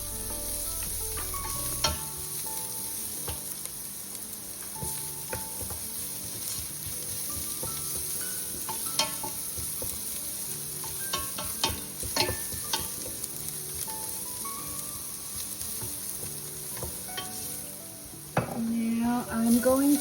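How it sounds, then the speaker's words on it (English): Garlic sizzling as it cooks in a pan for a vegan lasagna, stirred to keep it moving, with a continuous close sizzle, scattered utensil clicks and scrapes, and a louder clatter near the end. "we're just going to let that garlic cook for a fast minute, not too long because you don't want your garlic to burn, and just keep it moving"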